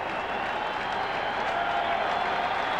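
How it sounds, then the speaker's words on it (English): A large baseball crowd at a 1995 Cincinnati Reds Opening Day game against the Chicago Cubs roars and claps in a steady wash of cheering, loud and sustained throughout. "The crowd alive."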